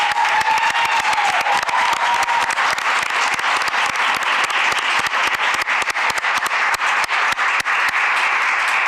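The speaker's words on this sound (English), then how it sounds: "I'd love to hear the same round of applause" Applause at a school board meeting for a newly appointed elementary school principal: a loud, sustained round of clapping from a crowd that fills the whole stretch without letting up.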